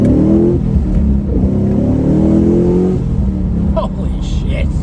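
A motorbike engine revs hard during a throttle controller test, a loud, continuous mid-range roar with rising and falling pitch sweeps, close by and dominating throughout.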